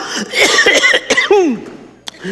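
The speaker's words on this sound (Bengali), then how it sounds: "তখন থেকে কাশি হচ্ছে।" A person close by coughs in a quick burst of harsh, loud coughs, trailing into a rough throaty sound.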